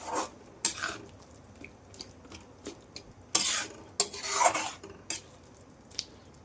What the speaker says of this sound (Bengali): তারপরে এটাকে খুব ভাবে এবার ভাজতে হবে